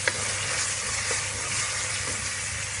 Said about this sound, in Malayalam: നന്നായി വഴറ്റി കൊടുക്കാം ഇതിന്റെ ഒക്കെ പച്ച മണം മാറുന്ന വരെ വഴറ്റണം